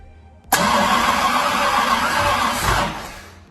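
A 1953 Allard K3 engine catches abruptly after a short quiet moment, then roars loud and close for a couple of seconds before tapering toward idle.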